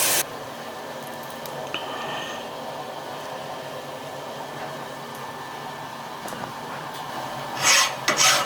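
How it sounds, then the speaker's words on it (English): Deburring a machined steel tool holder bar for an Italian-style shaper tool holder: steady close rasping and rubbing scrapes run throughout, with brighter, louder strokes near the end, no talk. "What I'm doing here is deburring"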